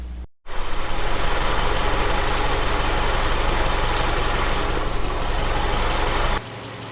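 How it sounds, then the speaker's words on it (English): A Subaru engine that has been hard to start cranks briefly, catches, and settles into a loud, steady idle with a rough low rumble, then cuts off near the end. "So I'm going to start it up now and we'll just see what kind of results we get."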